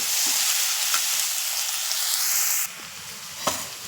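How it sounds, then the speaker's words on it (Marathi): Onion and tomato sauté in a hot pan with a steady, loud broadband sizzle that drops in level partway through, marked by a few soft stirring knocks. "कांदा टोमॅटो कांदा गुलाबी होईपर्यंत परतून द्यायचा"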